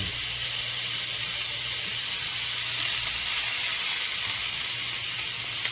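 Steak seasoned with just salt and black pepper sears in a hot pan, giving a steady, loud broadband sizzle that holds without a break, with a low hum underneath and no talking.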